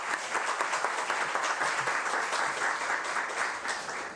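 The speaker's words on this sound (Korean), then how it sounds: "우리 박수로 한번 장로님 환영합니다" Applause fills a church service as a congregation welcomes an elder, a dense, steady wash of clapping from a crowd that carries evenly through the whole stretch without any voices.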